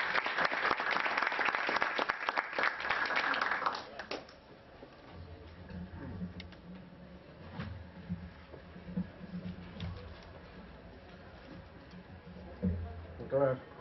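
Strong applause from the audience at a Peruvian law lecture welcomes a doctor to the podium, dense clapping for about four seconds that then stops, leaving a quiet room with faint shuffles and a few soft taps.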